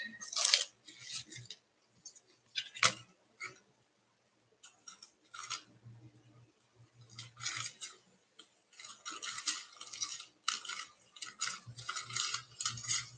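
Scissors snipping through paper for a functional art project with flea market finds, irregular runs of crisp cutting strokes with brief pauses, close and moderately loud, no talking.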